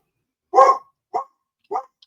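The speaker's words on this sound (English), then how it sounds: "My dogs are just barking." A dog barks three times at home, sharp and close, with short gaps between barks and quiet in between.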